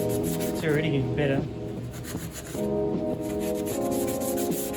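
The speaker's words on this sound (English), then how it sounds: "Just like this, you just start rubbing it" A maroon scotch pad rubs over the painted body panel of a Toyota MR2 in repeated close, scratchy strokes, with a short spoken remark in between.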